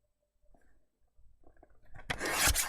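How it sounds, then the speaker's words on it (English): A paper trimmer slicing card stock, faint handling first and then a loud rasping cut that swells in the final second, up close. "So let's get our paper trimmer out again and cut this down."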